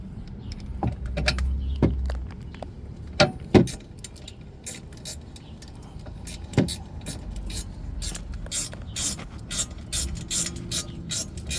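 Ratchet clicking while tightening rear brake bolts on a 2020 Honda Civic with electronic parking brake: short bursts of sharp metallic pawl clicks in several spaced runs, close and fairly loud, with occasional clanks.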